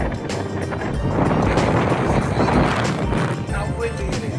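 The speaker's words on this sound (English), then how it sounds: "how windy it is. I hope you guys can hear it. It's gusting like crazy today." Loud, steady wind roars and buffets throughout, with broadband rushing noise and gusts swelling and easing.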